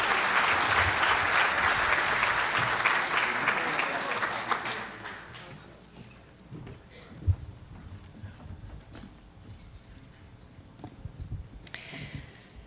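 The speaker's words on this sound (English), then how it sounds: "Give her a round of applause." Audience applause at a community leadership awards ceremony, loud and dense for about five seconds, then fading into scattered claps, a few sharp knocks and quiet room noise.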